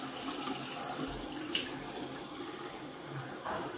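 Tap water runs steadily into a bathroom sink, a soft, continuous wash with a faint splash here and there and no talking.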